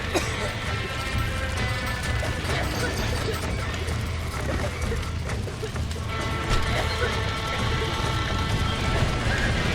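Hooves clatter in a fast, continuous rush as several horses run, with occasional neighs and clanks mixed into a loud, busy background, in the video game Red Dead Redemption.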